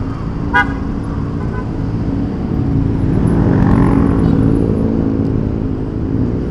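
A short car horn toot sounds once near the start, over steady rumbling traffic on EDSA in Manila that swells slightly midway.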